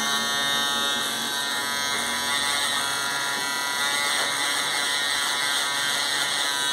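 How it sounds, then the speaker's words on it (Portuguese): Electric hair trimmer buzzing steadily and close up while cleaning shaver marks during a fade haircut with a pompadour, a continuous high whine with no talk. "Você vai tirar com a máquina de acabamento se ficar"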